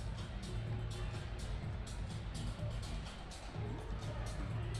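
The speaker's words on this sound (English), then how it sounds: "Great crowd here tonight." Steady crowd murmur fills a stadium at night during a semi-pro championship football game between the West Michigan Ironmen and Southern Michigan Apex, a continuous distant babble of many fans with faint cheering swells.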